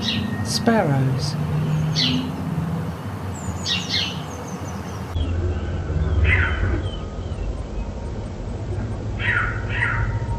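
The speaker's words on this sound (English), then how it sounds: "Sparrows." Several short sparrow chirps and calls sound in bursts across the clip, moderately close over a constant hiss of outdoor background noise, with a few fuller calls coming early and others spread out after.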